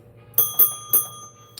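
A hand bell at a live rock and mineral sale showroom, rung to mark a sale claim, gives three quick bright rings in close succession, fairly near with a lingering metallic ring, and no voices.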